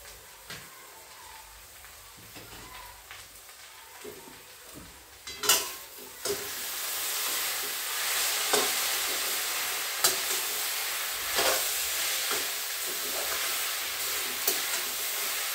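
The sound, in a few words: stirring grated potato frying in a pan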